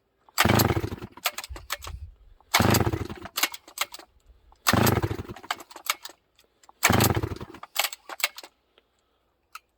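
Sachs Dolmar 153 chainsaw being pull-started, four loud sputtering bursts of the two-stroke engine catching briefly and dying, each followed by a pause, close by.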